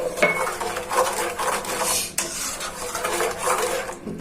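Green chili sauce with tamarind juice is stirred in a pan over low heat, a spoon scraping and clinking against the metal in repeated close strokes.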